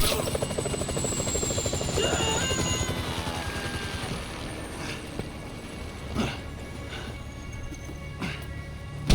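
A helicopter in Grand Theft Auto 5 drones with a steady, continuous rotor buzz throughout, loud and fairly close, with a few sharp transient knocks and clicks toward the end.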